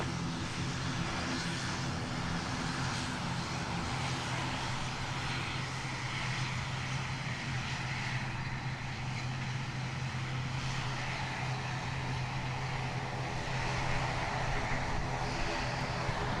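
An ATR turboprop airliner at Lanzarote Airport, its engines giving a steady, loud, droning propeller hum that holds unbroken throughout, with faint distant voices underneath.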